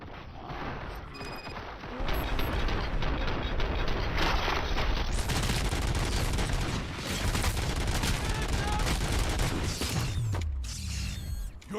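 Bursts of automatic gunfire and mechanical clatter from the video game RoboCop: Rogue City, loud and dense, running almost continuously from start to finish with no talk over it.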